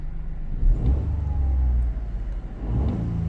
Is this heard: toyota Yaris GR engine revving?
yes